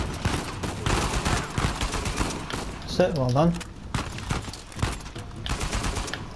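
Gunfire in the Uncharted 4 video game: bursts of shots crackle through the mix, mostly under people talking, and a tonal in-game sound rises near the middle.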